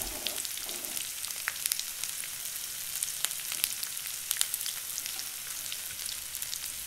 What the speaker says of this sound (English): Add ginger garlic paste to it and keep stirring till the raw smell of ginger and garlic